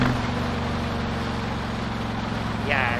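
A loud, steady Honda VTX 1300 motorcycle engine idles with a deep, pulsing rumble close by, a brief higher sound near the end.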